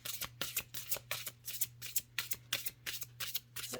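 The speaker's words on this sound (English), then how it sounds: "It's very easy to shuffle." Oracle card deck shuffled by hand, a rapid series of crisp riffling bursts in an even rhythm, close and clear with no talk, over a low steady hum.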